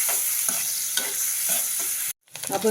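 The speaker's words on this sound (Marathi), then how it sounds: "तर त्याच्यातच आपण हे छान पनीर असं खालीवरी करून घेलेलं आहोत" Paneer sautéing in Amul butter in a pan gives a steady sizzle with soft rhythmic scraping strokes about every half second, then a brief break before the frying resumes and grows louder, with no talking.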